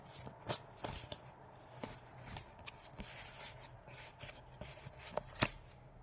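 A deck of tarot cards is shuffled close up in quiet, with crisp repeated riffling and slapping of cards at an uneven pace and no talking.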